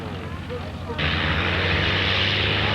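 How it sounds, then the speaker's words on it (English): A P-51 Mustang propeller fighter rolls for takeoff at an airshow, its engine rising sharply to a loud, steady roar after a moment of quieter idling, with a steady low drone throughout. "We're so very pleased to have the P-51 Mustang here at the show."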